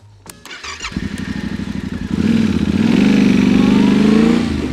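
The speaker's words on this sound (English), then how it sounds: "this thing has a buzzing sound that's just incredibly strong" An adventure motorcycle on a dual-purpose ADV tire rides on tarmac, its engine rising into a strong, steady buzzing hum that grows louder and holds, heard close with no speech.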